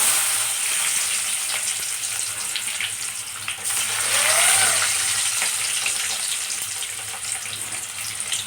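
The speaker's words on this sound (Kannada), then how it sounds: "ಉಳ್ಳಾಗಡ್ಡಿ ಫ್ರೈ ಮಾಡ್ಕೊಳ್ಳೋದು." Onions sizzle in hot oil with peanuts, cumin and mustard seeds, a steady hissing crackle that stays close and continuous, with faint clinks of stirring now and then.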